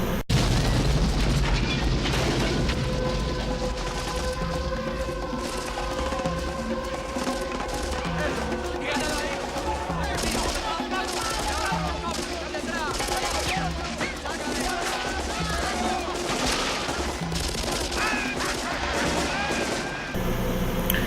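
Dense, continuous roar of booms and bursts with rapid sharp cracks like gunfire from an action-film scene of a gang battling police, loud throughout, layered with music-like tones and chaotic action noise.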